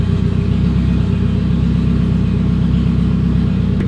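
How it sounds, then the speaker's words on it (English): Honda Civic with a K20 engine revving on a bench with almost no exhaust, a steady loud close rumble with a droning buzz, holding level without pause. "Oh, this thing hates being revved on this tune."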